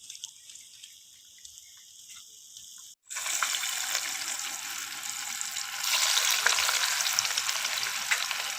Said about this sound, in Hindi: सारी फ़िश को इसी तरीके से फ्राई कर लेना है।